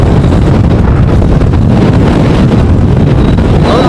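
Strong storm wind roaring and buffeting a microphone outdoors at Amsterdam Schiphol airport while plane spotting, loud and continuous, with no voices.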